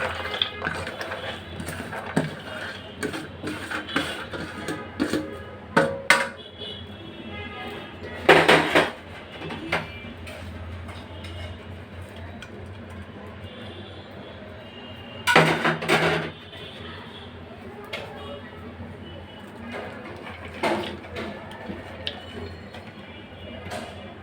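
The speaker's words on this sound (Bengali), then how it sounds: "এবার বাকি কাজ সব রকম খিচুড়ি সব রকম সবজি মিশাই দিচ্ছি" Vegetables being mixed into khichuri with rice and lentils in a pot, giving repeated clattering and scraping of a utensil against metal, with a few louder knocks and a low background hum.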